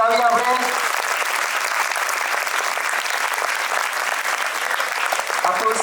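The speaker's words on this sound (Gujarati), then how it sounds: "જોરદાર તાળીઓથી વધાવીએ આપણે" Sustained audience applause in a hall, honoring a pencil sketch artwork at a school event; steady, dense clapping from a crowd that holds throughout, with a brief voice at the start.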